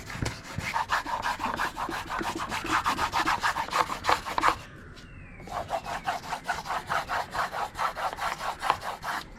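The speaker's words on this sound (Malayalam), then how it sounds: "മൈക്ക നല്ല രീതിയിൽ ഒട്ടുന്നതിന് വേണ്ടി ഇതുപോലെ മൾട്ടിവുഡിൻ്റെ ഒരു പീസ് എടുത്തുകൊണ്ട് ഇതുപോലെ ഒന്ന് അമർത്തി ഉരച്ച് കൊടുക്കാം." A piece of multiwood is pressed and rubbed back and forth over a laminate sheet on a pooja shelf, giving close, rhythmic scraping strokes with a short pause midway before the rubbing resumes.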